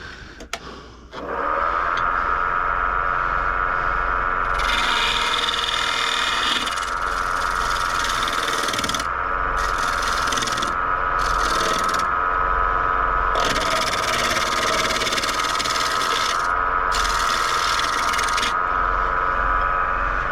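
A wood lathe turns the bottom plate of a double-decker serving platter, giving a loud, continuous, close whirring drone, with a cutting tool scraping and rasping the spinning wood in repeated passes.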